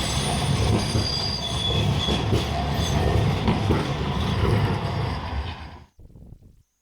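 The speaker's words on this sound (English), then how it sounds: "You want to check out a tram? Here you go." A Manchester tram rolls past close by, a loud rumbling roar with squealing wheels and rail clatter that holds steady for several seconds before stopping abruptly, followed by a brief faint tail.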